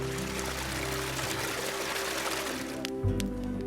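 A stream along a hiking trail flows steadily with a constant rushing, splashing hiss, fairly quiet and uninterrupted.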